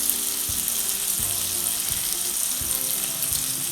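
Fish frying in a pan gives a steady, bright sizzle of hot oil throughout, with faint low knocks recurring underneath at roughly half-second intervals. No one speaks.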